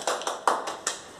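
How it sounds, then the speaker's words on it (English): Several separate hand claps in a classroom for a student, four or five sharp, fairly quiet bursts spaced unevenly with short gaps between them. "Clap for her. Clap for her."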